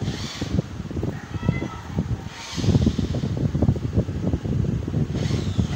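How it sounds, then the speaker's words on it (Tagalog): A cat meows near a window, waiting for food, with a steady fan-like hiss and wind noise running underneath the repeated cries. "Dito may pusa."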